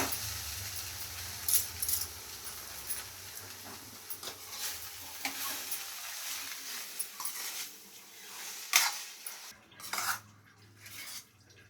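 Maggi noodles being mixed with fresh coriander in a metal pan, with repeated scraping and clinking of a spoon against the pan and a faint sizzle underneath, steady and close throughout.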